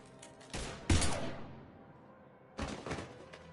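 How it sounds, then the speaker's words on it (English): A few bursts of gunfire in the video game Mass Effect 3: a short volley, a louder blast trailing into a decaying echo, then another cluster of shots after a pause, at moderate level. "Now open fire!"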